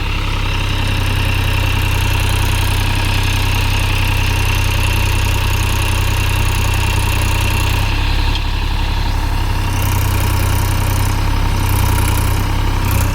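New Holland 3600-2 and Massey Ferguson 254di tractors stuck in a deep field, their diesel engines running loud and continuous nearby with a steady low drone and slight changes in engine speed.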